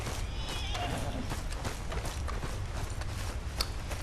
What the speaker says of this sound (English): I need my horse, though.